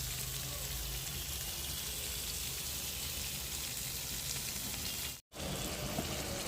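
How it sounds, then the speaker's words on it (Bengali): Fish pieces lightly frying in a pan while cooking, giving a steady, close hiss and sizzle with dense crackle that runs unbroken except for a brief dropout near the end. "মাছগুলি হালকা ভেজে তারপর রান্না করব।"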